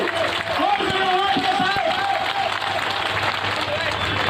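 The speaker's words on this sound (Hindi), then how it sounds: "माननीय नरेंद्र सिंह तोमर साहब और माननीय विवेक नारायण सेजवलकर के लिए जोरदार तालियां बजाएं।" A crowd at a public event in India applauds two honoured officials, scattered clapping and some cheering running beneath a loud voice speaking over it.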